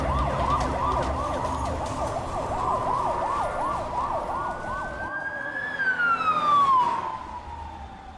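A police car's siren wails through cycling up-and-down tones, then sweeps into a long falling pitch as the vehicle passes close by, loud over steady traffic rumble.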